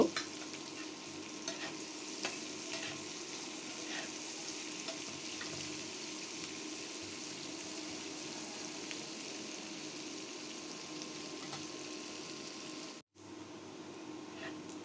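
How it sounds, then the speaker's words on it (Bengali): Onions fry in soybean oil in a pan, with a continuous low sizzle and periodic stirring scrapes. The sound is fairly quiet and cuts out briefly near the end. "পেঁয়াজ নেড়ে চেড়ে গোল্ডেন করে ভেজে নিব।"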